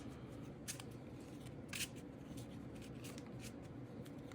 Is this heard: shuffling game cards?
yes